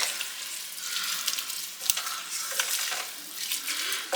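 Ground beef and garlic sizzle steadily in a hot pan while a utensil stirs and scrapes through them, a constant close frying hiss with occasional soft knocks, no voices.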